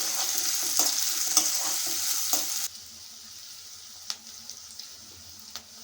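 Onion pieces frying in oil with curry leaves for an amaranth curry, a bright hissing sizzle with scattered stirring clicks that drops abruptly to a quieter simmer partway through, with occasional sharp taps afterward.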